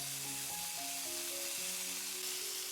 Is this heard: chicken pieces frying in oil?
yes